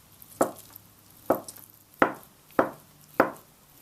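A knife chops half a block of tofu into small slices on a cutting board for Tibetan vegetable momos, giving five sharp, evenly spaced thuds, close and clear, with no talking.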